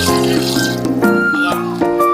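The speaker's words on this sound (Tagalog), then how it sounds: "So guys, lagyan na siya natin ng sabaw." Broth poured from above onto green shell mussels in a cooking pot gives a steady, close liquid splash and gurgle that runs for about two seconds, with bright harmonic ringing from the pot.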